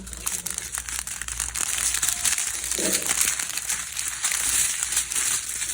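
Plastic diamond painting drill packets crinkle and crackle continuously at close range, a busy rustling texture with no voices.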